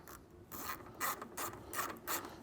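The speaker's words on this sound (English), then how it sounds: "8mm socket on a long extension just so that we can use it for the deep hidden 8mm in the back." Rapid ratcheting clicks from an 8mm socket on a long extension, working on a 2001-2006 BMW E46 M3 headlight, close and steady in short repeated strokes with no talking.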